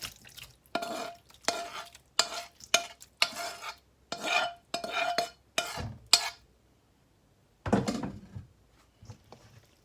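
Boiled shrimp and minced pork are poured into a glass noodle salad, giving a run of short clattering, scraping bursts close by, then a pause and a few final clinks.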